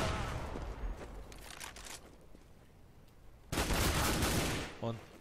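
Gunfire from a professional Counter-Strike match on de_dust2, Natus Vincere vs. JaS, comes as a loud, dense burst of rapid shots lasting about a second, followed by a shorter volley, over a steady background of game ambience.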